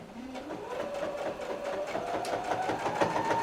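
A sewing machine runs steadily along a quilt seam, a continuous, fairly quiet mechanical whir with a rising hum as it stitches down the raised material.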